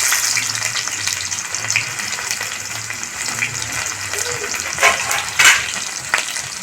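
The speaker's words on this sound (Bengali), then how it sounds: "দিয়ে দিলাম সর্ষের তেল এবারে দিয়ে দেব তেল গরম হয়ে গেছে দিয়ে দিচ্ছি পেঁয়াজ" Onions sizzling in hot mustard oil in a pan for a Bengali dried-fish bharta, a steady bright crackle with occasional louder spits and stirring.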